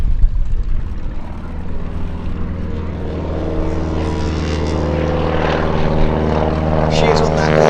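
An aerobatic biplane carrying a wing walker makes a slow, low pass at Sywell airshow, its propeller engine a loud, steady, close drone that builds slightly as it nears, with commentary running underneath.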